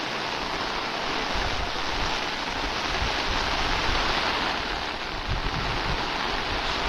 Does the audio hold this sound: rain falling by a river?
yes